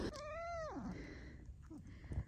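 A cat gives one long, loud, drawn-out meow that slides downward at the end, followed by a couple of softer short chirps and rustling nearby.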